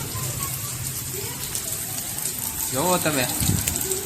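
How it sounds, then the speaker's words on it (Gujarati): Heavy rain falling steadily, a constant broadband hiss of downpour filling the whole clip, with someone speaking briefly over it near the end. "બહુ ફૂલ વરસાદ છે હો ભાઈ."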